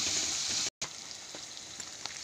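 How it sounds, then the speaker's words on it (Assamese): Spices frying in oil in a pan, a steady close sizzle with faint crackles that breaks off briefly and then resumes a little quieter. "মছলাখিনি মই অকণমান সময় ভাজি ল'ম।"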